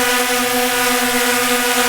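A DJI drone fitted with an Insta360 Sphere hovers close while being landed by hand, its propellers giving a steady, loud, high-pitched whine throughout.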